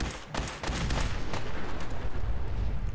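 An explosion in Fallout 4 sets off a sudden blast after a brief lull, then a heavy, rumbling roll of detonation that carries on to the end.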